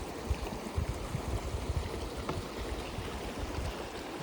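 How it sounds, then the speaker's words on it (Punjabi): Sacred pool water at the Golden Temple tumbling down in a waterfall, a loud, constant churning rush with slight surges in volume, heard up close and on its own with no speech. "ਬਹੁਤ ਖੂਬਸੂਰਤ ਝਰਨੇ ਦਾ ਰੂਪ ਲੈ ਲੈਂਦਾ ਥੱਲੇ ਡਿੱਗਦਾ"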